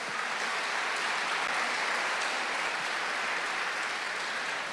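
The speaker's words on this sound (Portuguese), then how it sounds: "Vamos dar um aplauso bem forte ao Espírito Santo." A church congregation applauds at a Portuguese-language worship service, steady dense clapping that holds at full strength from start to finish with no voices over it.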